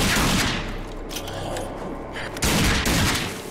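Loud rapid gunfire in the video game Rage, a dense roar of shots in two heavy bursts with a short lull between.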